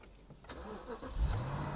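Push-button start of a car: a short engine crank that catches about a second in and settles into a low idle, close by and moderately loud, with no talk.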